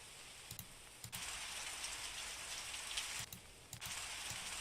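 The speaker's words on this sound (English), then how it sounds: "We got some thunder." Rain falls steadily as a continuous broadband hiss, broken by a few low, sharp thumps of thunder.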